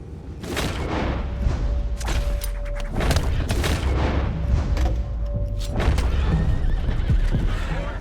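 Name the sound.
horses neighing and hooves in a video game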